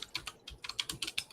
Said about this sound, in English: You can always hear the mechanical keyboards.